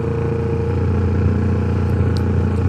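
A 2018 Kawasaki Ninja 650 parallel-twin motorcycle with an aftermarket exhaust, idling or cruising with a steady, throaty droning rumble held close and even throughout.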